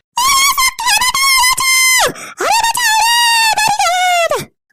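A woman screams in two long, loud, sustained wails broken by a brief gap, close up and raw, filling the scene in a house where smoke is rising.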